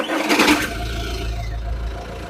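An MG Hector diesel engine, with engine flush added to its old oil during a major service, cranks in a short loud burst and settles into a steady, close idle.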